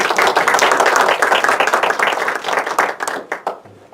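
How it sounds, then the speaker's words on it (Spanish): Audience applause after a speaker is introduced at an academic panel on autism, dense clapping from a roomful of people that holds steady and then thins into scattered claps near the end. "Démosle un aplauso al doctor."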